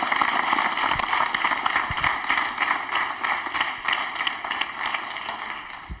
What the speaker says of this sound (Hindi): अनिल के लिए तालियां एक बार हो जाए भाई